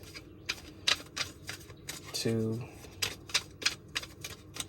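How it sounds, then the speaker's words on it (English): Quick rhythmic riffling of tarot cards, a series of short crisp bursts, close by, with a brief voice in the middle. "If nothing pops, we'll do 3 more shuffles here."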